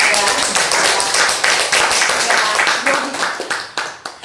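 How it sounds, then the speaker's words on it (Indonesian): An audience claps throughout a panel debate show, a steady burst of many hands at close range with individual claps standing out, tapering slightly near the end. "Boleh minta tepuk tangannya dulu dong"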